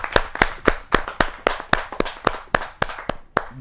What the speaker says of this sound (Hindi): जोरदार तालियों के साथ हम उनका स्वागत करें।